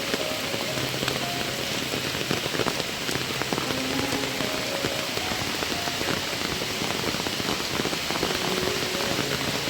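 Heavy monsoon rain in a Konkan village drums steadily and densely on surfaces, a continuous close hiss and patter with no break across the whole stretch.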